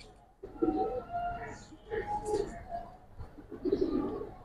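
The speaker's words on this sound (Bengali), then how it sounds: "মাদি একটা কবুতর" A female pigeon coos nearby in three or four distinct throaty bursts, each a low rolling purr separated by short pauses, fairly loud against a quiet background.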